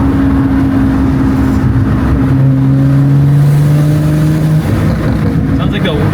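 A BMW engine fitted with an SSR downpipe and stock intake revs loud and close, with a steady droning tone that climbs in pitch and a brief airy whoosh near the end as the wastegate opens, while people talk over it.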